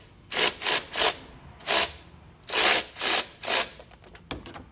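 Hand tools working loose the bolts on a John Deere riding mower with a Briggs & Stratton engine: seven or eight short, close metallic bursts in an irregular rhythm, each about half a second, with quiet gaps between them and no talking.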